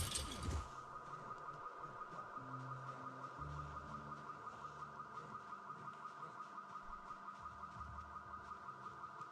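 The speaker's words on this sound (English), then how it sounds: "A car alarm!" A car alarm goes off at some distance, repeating a fast, steady pulsing tone over outdoor background noise during a road trip through Knox County.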